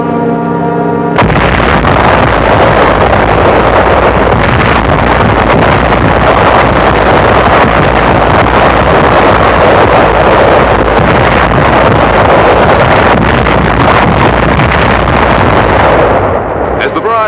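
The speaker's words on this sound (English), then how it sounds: "the small landing craft were racing toward the invasion coast" Small landing craft race toward an invasion coast at dawn after a naval barrage, a loud, continuous roar of engines and rushing wind filling the scene without a break, with no distinct voices.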